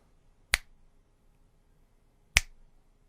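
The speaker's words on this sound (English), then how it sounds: "Now, with a snap," Two crisp finger snaps about two seconds apart in a quiet room, each sharp and close with a short reverberant tail, nothing else audible between them.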